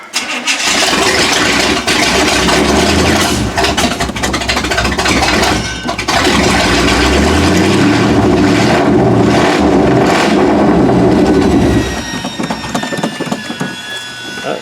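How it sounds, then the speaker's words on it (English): A 1979 Chevy K20 truck engine cranks and fires, then runs loud and rough with repeated throttle revs before it drops to a quieter idle near the end. "Alright, let's try to work this throttle."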